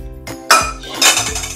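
An iron tawa handled in a home kitchen, producing two sharp metallic clanks against other cookware followed by brief ringing and clinking, close and fairly loud, with no speech.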